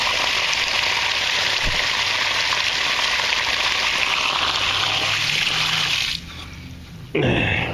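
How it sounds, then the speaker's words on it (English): Water, clouded and milky with what looks like detergent, gushes through a garden drain beside a fence in a loud, steady rush that dips suddenly near the end before returning. "That water is running pretty clear."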